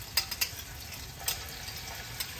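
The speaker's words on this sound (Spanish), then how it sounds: "para que se fríe el ajo" Garlic frying in a little oil in a pan at a Cambodian cooking class, a steady soft sizzle broken by a few brief clicks and stirs, close by with no talking.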